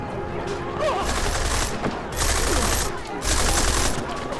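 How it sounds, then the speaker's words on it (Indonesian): Gunfire in a police shootout in the video game Deus Ex: Mankind Divided, bursts of rapid automatic fire in several loud waves separated by brief lulls, with dense crackling shots layered over a game soundscape. "Jadi tembak-tembakan dong."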